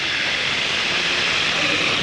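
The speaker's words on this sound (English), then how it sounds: "And they also have these rain sticks, which are quite fun, because you turn them over." A rain stick is turned over, giving a continuous dense rushing hiss like steady rainfall, even and moderately loud for a couple of seconds, with no talking.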